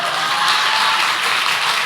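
Applause from a church congregation, a loud continuous burst of many hands clapping together that stays even for the whole short span.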